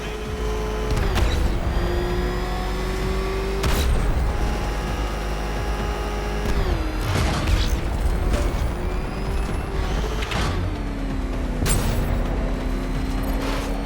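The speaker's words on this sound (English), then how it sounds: "Can that ramshackle motor handle this?" Batmobile engine in the Batman Arkham Knight video game, a sustained revving drone that rises and falls in pitch, with sharp bursts and thuds punctuating it every few seconds.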